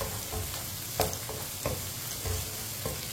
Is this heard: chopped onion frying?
yes